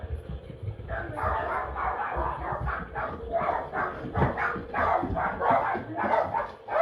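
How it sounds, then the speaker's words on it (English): A dog indoors barks repeatedly in a quick, uneven series, loud and close, with a rooster-like crowing quality mixed in and faint voices underneath. "can you get that dog out of there?"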